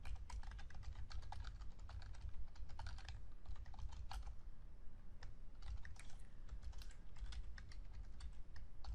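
Typing on a computer keyboard while writing PL/SQL code, a steady, quiet stream of close key clicks with brief pauses and no talk.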